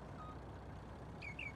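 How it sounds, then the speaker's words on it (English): Vehicle reversing alarm in Farming Simulator 19, two short high beeps near the end over a low engine rumble, quiet and without speech. "What are you beeping for?"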